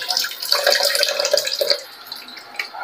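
Water begins running from a household tap during a home water supply problem, a steady hissing splash close by that carries for about two seconds and then drops to a quieter trickle.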